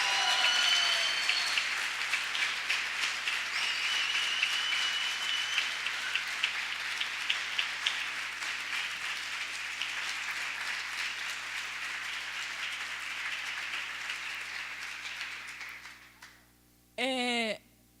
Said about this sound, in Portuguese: E eu gostaria que vocês aplaudissem ela